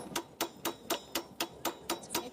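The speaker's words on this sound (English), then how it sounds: "this is a tiny little hammer" Small hammer tapping metal to dome it during a damaged knife repair, nine light, sharp taps at a steady, even pace, close and alone with no talking.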